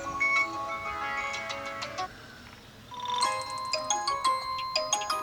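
Several system ringtones from a Vivo V21e phone play back to back, bright chiming melodic tones with a short quiet gap midway before a new jingle of rhythmic pings starts.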